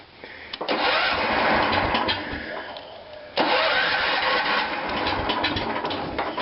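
An older John Deere garden tractor engine cranks briefly, then catches and runs loud and close, with a second crank and restart midway through.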